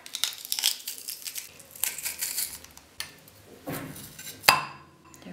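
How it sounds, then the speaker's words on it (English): A garlic press squeezes garlic into avocado for guacamole, producing crunchy squelching and clicking scrapes in short bursts, with a sharper snap near the end. "Press the garlic in there"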